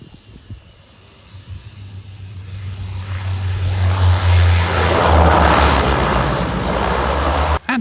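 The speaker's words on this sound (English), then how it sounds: "Pretty soon though, my plane was on final approach." Small propeller plane on final approach to a very short runway, its engine drone swelling from faint to loud as it nears, with broadband roar building over several seconds alongside a steady low hum.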